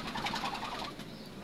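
Turtle doves feeding in a breeding pen at eight in the morning coo softly and repeatedly at moderate distance, over a steady background murmur and with no talking.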